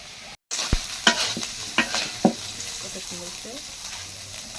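Prawns frying lightly in a pan, a steady sizzle with sharp scraping and stirring clatters spread across a few seconds, fairly close and moderately loud.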